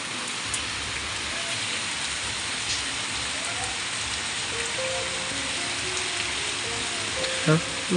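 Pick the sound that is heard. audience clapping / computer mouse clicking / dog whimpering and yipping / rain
rain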